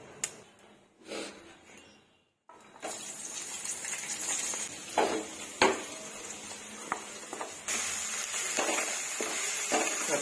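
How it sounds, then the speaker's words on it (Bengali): Chopped onions fry in oil left over from browning meat, a soft sizzle broken by metal spoon scrapes and pan clinks, starting quiet and then building to a steady hiss. "পেঁয়াজ ভেজে নিচ্ছি।"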